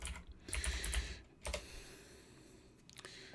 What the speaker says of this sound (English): let's just type in Twitch